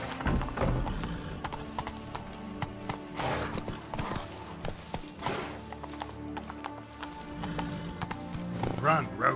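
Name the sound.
horse Roach galloping in The Witcher 3 video game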